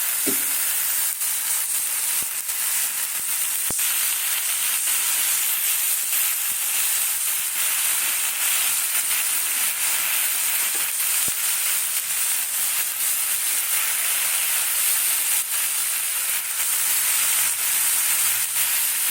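Fresh garden gime shak greens fry in a pan with a steady, bright sizzling hiss that continues evenly throughout, broken by occasional faint clicks of stirring.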